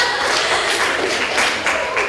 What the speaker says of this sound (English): I'll tell Soda Jerk that they got an applause after screening their work